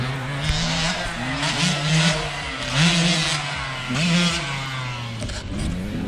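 Motorcycles riding laps on a private family dirt track, engines revving up and down in repeated surges, close and loud, with no talk over them.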